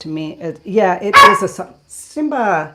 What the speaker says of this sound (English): the dog trying. He wants to come in.